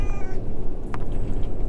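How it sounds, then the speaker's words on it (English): A cat meows inside a moving car, a short loud meow standing out against the steady low rumble of road noise. "He'll get up and he'll start meowing and stuff."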